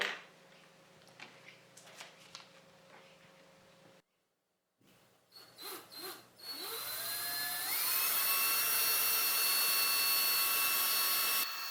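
An electric drill spins up and bores a straight hole through electrical conduit for an M5 bolt, with short bursts and pauses before a rising whine that holds loud and steady to the end.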